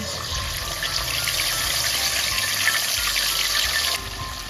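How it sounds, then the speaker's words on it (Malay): Chicken seasoned with coriander powder, bay leaf and salt fries in a pan with a steady, loud, continuous sizzle that holds evenly throughout before dipping slightly near the end. "kita goreng ayam."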